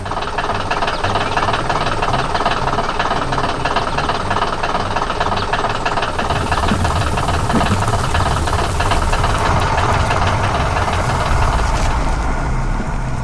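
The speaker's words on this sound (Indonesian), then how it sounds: "Terdengar suara mesin yang bekerja keras" A yellow digging machine in an animation runs its engine hard in a steady, loud, continuous drone with a knocking rumble that thickens partway through.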